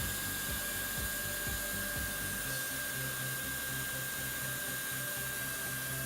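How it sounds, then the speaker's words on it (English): A heat welding tool warms up before welding a plastic sheet, producing a loud, steady blower-like whir with a constant hum that runs unbroken throughout. "When you start a weld, you usually want to get the tip a little bit warm."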